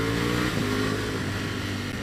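A Ducati Panigale V4 Speciale motorcycle rumbles steadily while being ridden, with a loud, continuous engine drone and low harmonic hum plus rushing wind noise throughout.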